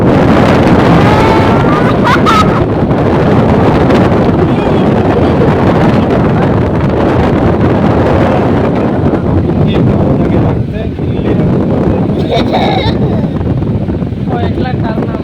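An air cooler's fan whirs and its water pump runs, splashing water upward, in a loud, steady broadband rush close to the microphone, with a person talking over it.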